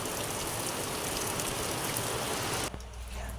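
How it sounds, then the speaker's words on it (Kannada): Heavy rain pours down in a dense, continuous roar, then cuts off abruptly near the end; the rain has set a nearby stream flowing. "ಇವತ್ತು ಕೂಡ ನೋಡಿ ತುಂಬ ಮಳೆಯಾಗಿ ಹಳ್ಳ ಕೂಡ ಬಂದಿದೆ"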